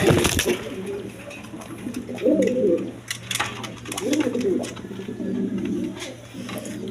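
A pair of big pigeons in a seller's collection coo in repeated rolling phrases, near and fairly loud over a steady low hum, with brief clatter at the start.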